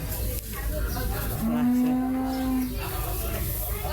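A single long, low moo from a cow rises above a busy outdoor crowd murmur, with the general bustle of the Gabtoli cattle market around it.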